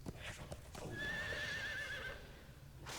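In Lord of the Rings Online, a horse lets out a loud, quavering neigh lasting about a second, preceded by a few hoof clops and scuffles, close and alone.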